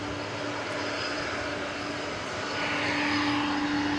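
An aircraft in Yam Dreaming livery flies past at DFW at night, a steady, strong engine roar with a sustained droning tone that swells slightly in the last second or so, alone without voices.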